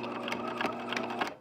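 A sewing machine stitches a peplum seam on thick layered fabric, giving a close, steady whirring run with rhythmic needle clicks that speed up and slow slightly over a brief stretch.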